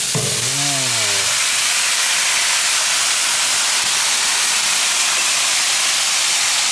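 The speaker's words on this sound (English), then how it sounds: "Listen to it sizzle." Garlic sausage with peppers and onions sizzles on a flat top grill, a loud, steady hiss that fills the whole clip after a brief tonal sound at the start.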